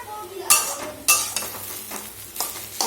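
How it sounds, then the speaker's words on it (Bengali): Potatoes frying in a home kitchen pan, with a light sizzle broken by several sharp spatula scrapes and clinks against the metal, close by, with no talk. "আলু ভাজা করছি এখন"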